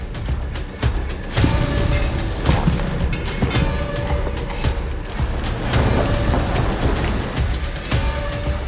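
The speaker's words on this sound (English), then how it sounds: "I really like our rain sound. I'm going to lower the thunder a little bit that I added." Steady heavy rain with low rumbling thunder rolling underneath, dense and constant throughout.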